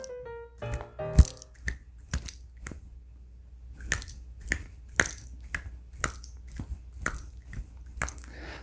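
Fingers slap against the palm to fake the sound of a coin toss and catch, giving a series of sharp, close claps in an uneven steady rhythm with no voice.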